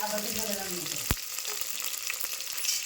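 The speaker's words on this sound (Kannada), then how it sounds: "ಉಳ್ಳಾಗಡ್ಡಿ ಮತ್ತು ಮೆಣಸಿನ್ಕಾಯಿ ಒಂದರೊಳಗೆ ಎರಡು ಭಾಗ ಮಾಡಿದ್ದ ಮೆಣಸಿನ್ಕಾಯಿ ಚಂದ ಫ್ರೈ ಮಾಡಿ" Sliced onions and halved green chillies frying in a pan, a dense steady sizzle with a sharp clink of a utensil partway through and light scraping strokes.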